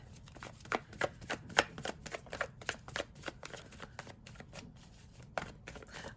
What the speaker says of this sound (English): let's see if there's one more card here